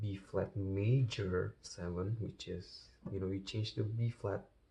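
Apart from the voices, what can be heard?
No everyday noise stands out behind the speech.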